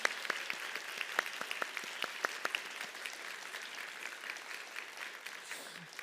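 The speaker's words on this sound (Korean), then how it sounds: "축하의 박수 부탁드립니다" A church congregation at a Sunday service in Seattle applauds in congratulation for a newly married couple, a steady patter of many hands that gradually thins and fades toward the end.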